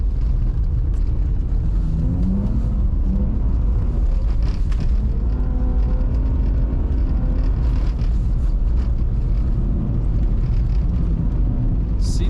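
A BMW E46 320i drives along a snowy winter forest road, heard from inside the cabin. A dense, constant low rumble of engine and tyres runs the whole time, with faint gear changes in the engine tone.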